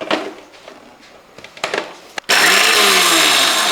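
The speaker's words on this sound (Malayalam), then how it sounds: "ഇത് നമുക്കൊന്ന് പൊടിച്ചെടുക്കാം" A kitchen mixer grinder whirs into a loud, steady roar, crushing salted mango with salt for a Kerala uppu manga chammanthi. A few quiet clinks and shuffles come first, then the motor starts abruptly and runs on.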